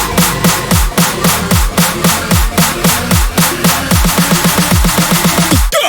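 Short build in an electronic track with crashes and a riser: rapid, evenly spaced kicks and bright hits drive forward and tighten toward the end, loud and dense with no voices.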